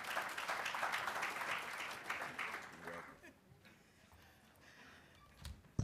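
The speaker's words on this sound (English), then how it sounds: "Give her a round of applause." Dense applause at a Black student athlete summit welcomes a speaker to the stage, loud for about three seconds before fading to sparse claps and quiet room noise with a couple of knocks at the end.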